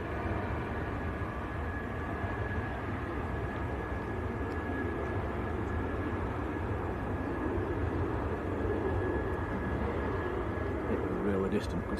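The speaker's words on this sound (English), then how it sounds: "here we go then, Jet2's A330 to Tenerife South" A Jet2 Airbus A330 airliner departs Manchester Airport for Tenerife South, a steady, distant broadband roar that holds evenly throughout with no clear rise or fall.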